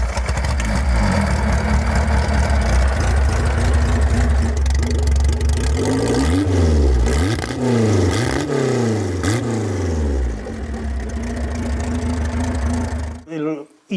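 A Nimbus motorcycle engine runs after being kickstarted, a loud close idle that revs up and down several times in waves before cutting off abruptly at the end.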